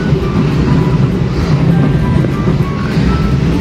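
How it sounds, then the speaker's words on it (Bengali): A train runs along a railway line on a rainy day near hills, its steady low rumble and rolling noise continuous and fairly close throughout. "ট্রেন যাচ্ছে এখন, দেখতেই পাচ্ছেন"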